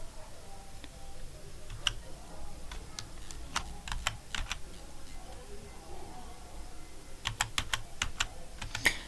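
Fingers tap on a computer keyboard in scattered bursts of sharp clicks, some single and some in quick runs, quiet and close with gaps between.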